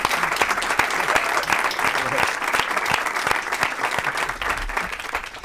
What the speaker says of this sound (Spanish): aplauso para ella